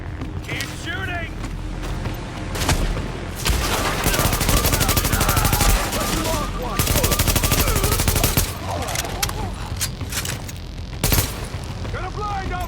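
Sustained gunfire in a firefight from The Division video game, with bursts of automatic fire and single shots, loud and close, over a busy battle soundscape with shouted voices.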